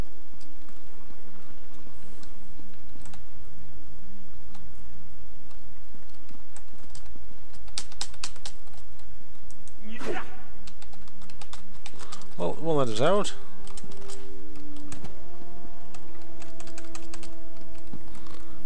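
Typing on a computer keyboard at a desk during a game session, a steady patter of close key clicks running through the clip with some louder bursts, while someone speaks briefly and other game sounds play.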